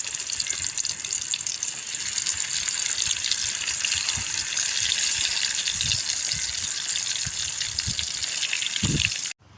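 Eggplant pieces frying in hot oil during outdoor cooking, giving a steady dense sizzle with soft crackles and occasional pops, close and continuous until it cuts off near the end.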